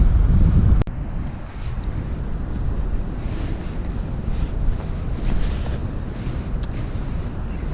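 Low, rumbling buffeting of wind hitting a microphone while fishing for perch on a river, loud and continuous, with a sharp knock near the start; no voices.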